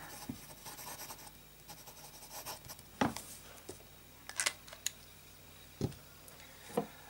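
A Montblanc fountain pen nib scratches across paper in soft, close strokes, with a few sharper ticks and taps scattered among quiet scribbling.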